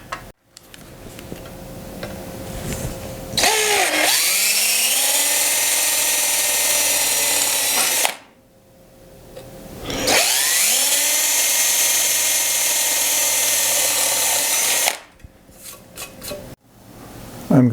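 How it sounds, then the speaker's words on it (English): A power drill bores holes in metal for telescopic bike pannier struts, two long loud sustained whines each lasting several seconds with a pitch dip at the start, separated by quiet pauses and small clicks. "I'm going to drill a couple of holes there"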